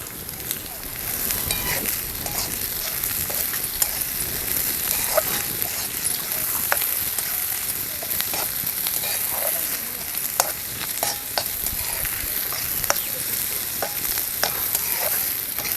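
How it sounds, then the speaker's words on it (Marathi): Onion, garlic and chillies fry in a pan with a continuous close crackling sizzle, punctuated by frequent scraping and stirring ticks, with no talking. "तर आता कांदा लसूण मिरची सगळं तळलेलं आहे."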